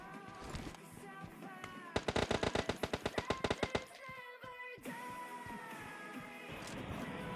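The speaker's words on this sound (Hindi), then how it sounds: "पीछे से आते भाई गन साउंड की आवाज़" Rapid burst of automatic gunfire in PUBG Mobile Lite, a dozen or so sharp evenly spaced shots over about two seconds, set against quieter game ambience with scattered faint pops before and after.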